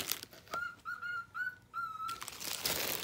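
Pet bird indoors giving a series of five short, clear whistled chirps at a steady pitch, close and moderately loud, with soft room noise around them.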